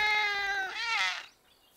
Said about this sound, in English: Oh, it's a baby cat.